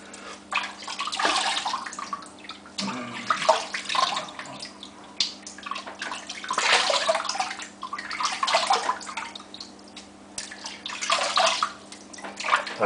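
Water runs from a faucet in a surging, splashing stream during rinsing after a shave, rising and falling in bursts over a low steady hum.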